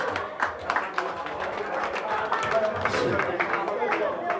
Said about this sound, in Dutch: Applaus voor Peter, hè?